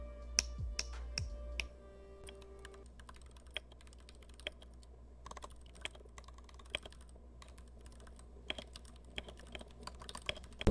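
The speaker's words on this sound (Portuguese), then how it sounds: "Um teclado mecânico com switches Gateron Brown." Typing on a Kabum TG600 mechanical keyboard with Gateron Brown switches gives steady, close, quiet clacking keystrokes with irregular rhythm and occasional louder key hits, and no one speaks.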